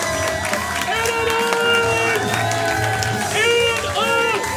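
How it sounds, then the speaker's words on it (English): A live event audience cheers, whoops and applauds loudly and continuously, with an announcer's amplified voice carrying over the crowd noise. "let's keep those applause going"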